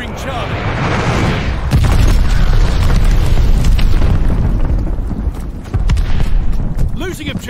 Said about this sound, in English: Enemy's got a glide bombing coming.